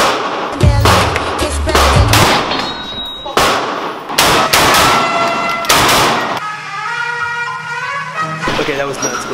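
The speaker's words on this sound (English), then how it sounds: "Every time that someone shoots a gun" Gunshots at an indoor gun club shooting range in Los Angeles, several loud, sharp blasts at irregular intervals with ringing reverberation, mixed with people talking and range noise.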